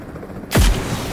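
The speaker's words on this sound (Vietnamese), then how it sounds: "trận này bắn đạn trực thăng sướng thật đấy anh em ạ" A single heavy blast from helicopter-mounted guns in a video game booms sharply up close, then leaves a rumbling tail over faint background noise.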